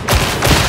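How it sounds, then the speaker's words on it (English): Laser gun firing in Warhammer 40,000: Darktide, two loud close bursts of crackling energy blasts in quick succession over a dense, noisy game soundscape. "Got a laser gun."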